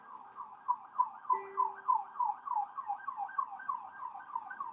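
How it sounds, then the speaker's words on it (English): A siren wails outdoors in rapid, rising-and-falling cycles that repeat steadily throughout, moderately loud and somewhat distant, with no voices over it. "can you hear the siren?"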